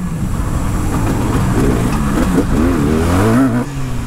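A tuned Yamaha RD350 motorcycle engine roars continuously and loud, its pitch climbing as it accelerates through the revs, close by with no talking.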